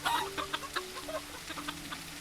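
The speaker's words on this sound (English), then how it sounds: "And all your chickens are just being so sweet." Chickens cluck in the farming video game Teddy's Haven: a run of short, bright clucks and chirps in an uneven rhythm, fairly close, over a low steady game hum with no talk.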